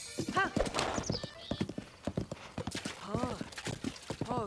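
A horse gallops in Zelda: Breath of the Wild, rapid rhythmic hoofbeats close and steady with a couple of neighs and whinnies, while someone talks over it.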